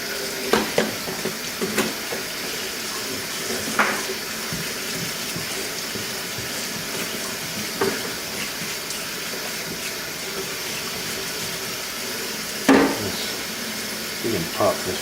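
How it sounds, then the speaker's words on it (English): Tap water pours steadily into a sink while a giant puffball mushroom is rinsed under it, a constant close hiss broken by occasional splashes and handling knocks. "So I've got our puffball in the sink here. We're just going to clean it off a little bit and take all the dirt off."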